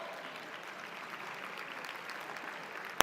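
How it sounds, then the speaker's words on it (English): Applause for pastors at a luncheon, a steady wash of many hands clapping from a distance, fairly faint and even throughout, ending on one sharp close knock. "Give our pastors a big round of applause."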